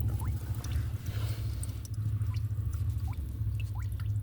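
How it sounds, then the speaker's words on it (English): Oil drips slowly from the drain of a Ferrari 360 engine, faint scattered plinks spaced irregularly over a loud, steady low background rumble, with no voices. "It's been dripping all night and all day."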